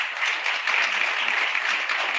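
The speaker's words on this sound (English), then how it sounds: "let's give all of them together a big round of applause" An audience at a 2022 inauguration ceremony gives a round of applause for a kid governor's cabinet, a continuous, even burst of many hands clapping at close range for about two seconds.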